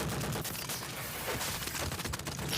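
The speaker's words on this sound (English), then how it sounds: "And she unloaded a whole mag into him." Rapid anime gunfire as a whole magazine is emptied into someone: a dense burst of quick shots, moderately loud and close, with no talking.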